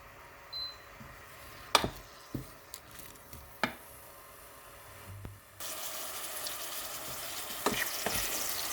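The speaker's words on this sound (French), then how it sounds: "faites revenir l'oignon et l'ail, le morceau de poulet" Onion, garlic and chicken pieces frying in a pan for a broccoli and potato soup, a quiet steady sizzle punctuated by sharp utensil clicks and scrapes, growing louder and more intense partway through.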